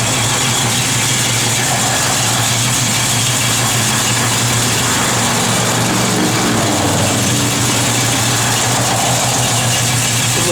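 A 1970 Plymouth Barracuda with a mild cam idles close by, its engine giving a loud, steady rumble with a slightly lumpy pulse that runs unbroken throughout.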